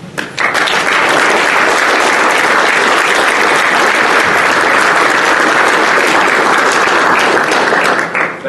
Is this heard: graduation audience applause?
yes